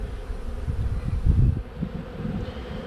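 Honeybees buzz around open hive frames during a hive inspection, a low close hum with wind rumble that swells briefly midway.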